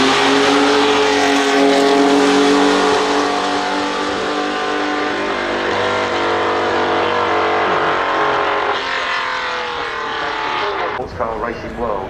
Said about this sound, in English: you can see up behind the front is some more modern day cars bringing up the rear of the field.